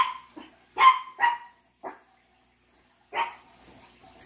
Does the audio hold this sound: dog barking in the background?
yes